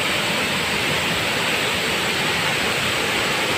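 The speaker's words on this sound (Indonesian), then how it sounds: "Lihat kecalak atau air terjun kecalak" Kecala waterfall (Riam Kecala) pours steadily nearby, a continuous broadband roar of falling water with no pauses or voices.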